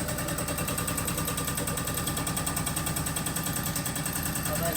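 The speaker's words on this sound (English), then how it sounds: "Alright, turn off the compressor." An air compressor running during a Liteweight 1300 caravan restoration, a loud, steady rapid mechanical chugging that stays constant throughout without pauses.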